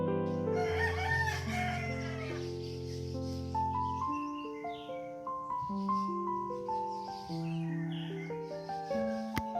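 A rooster crows repeatedly in rural Philippine countryside, its long, strained calls loud and close, with other fowl clucking softly around it.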